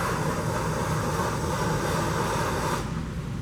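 A 3200-degree torch roars steadily during fire retardant training at a fire station, a loud continuous rushing blast with no pauses that eases slightly in its final moment.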